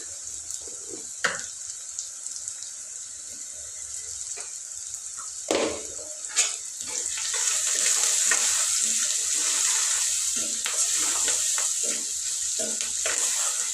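Sliced onions cook in a pan with salt and turmeric. A few scraping stirs and clatters come first, then a steady close sizzle builds and holds strongly to the end.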